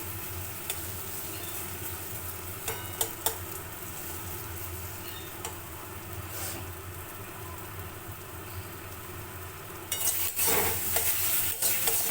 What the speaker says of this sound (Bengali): কন্টিনিউয়াস নেড়ে যেতে হবে, নাহলে সেটাকে একটু মানে লেগে যাওয়ার ভয় থাকে। এটাকে দাঁড়িয়ে থেকে ভাজতে হবে।